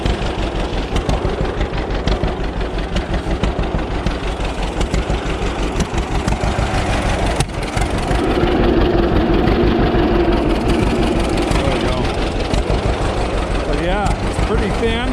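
A heavy engine idles steadily on a cold morning after its fuel is shut off, a continuous low rumble with rhythmic knocking that keeps running, while someone talks over it.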